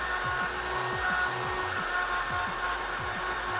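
A cheap $2 USB-powered mini vacuum made for computer keyboards runs with a steady, close motor whine and airy hiss, with faint low rattling pulses repeating throughout.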